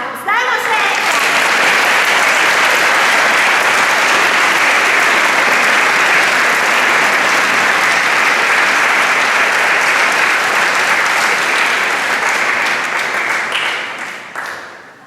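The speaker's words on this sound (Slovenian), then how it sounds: "Mislim, da bo za pis potreben pa še malce bolj huronski aplavz." An audience at a concert by the LUČKE children's choir from Kapele pri Brežicah gives loud, dense applause that holds steady for about thirteen seconds, then thins and fades at the end.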